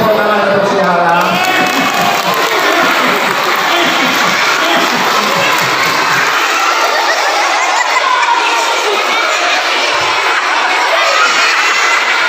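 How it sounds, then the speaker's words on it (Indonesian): A group of schoolchildren at an Islamic primary school storytelling session clap and cheer loudly for a boy named Alam, with dense, continuous crowd noise and shouting voices throughout. "tepuk tangan untuk si Alam"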